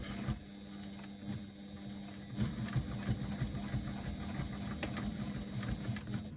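Sewing machine stitching across a bag pocket flap with back stitches, a steady fast mechanical whir and rattle running continuously, faint and close.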